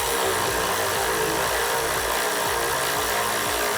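A power tool drives hood strut hardware tight on a Toyota FJ62 Land Cruiser, a loud, close, continuous whirring buzz with rapid pulsing throughout.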